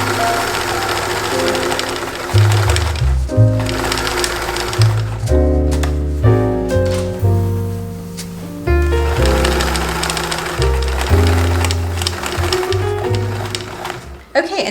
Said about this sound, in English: just run a few basting stitches over these to secure them in place